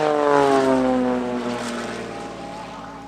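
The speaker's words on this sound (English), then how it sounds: "the airport fire engines are performing a water cannon salute, and Marek is flying through the middle of" Steady droning engine of an aerobatic plane passing through an airport fire engine water cannon salute at an airshow, a loud continuous tone with shifting pitch that fades slightly over a few seconds, with no talk.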